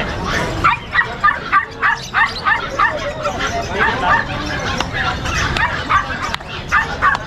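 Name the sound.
puppies barking in a pet shop, Pomeranians and poodles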